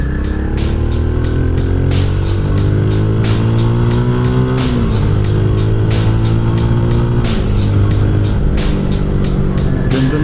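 A Rusi Classic 250i motorcycle rides in third gear, its engine a loud, continuous drone that rises and dips slightly in pitch, with a rapid ticking rhythm layered over the steady roar.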